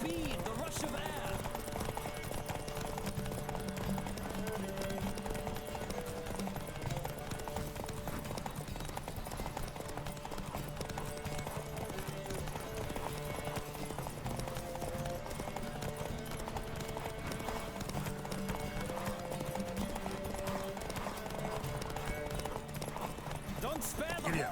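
A horse gallops in The Witcher 3 video game, its hooves beating a steady, driving clip-clop rhythm for the whole stretch over a constant music and ambience bed, with game voices speaking in bursts.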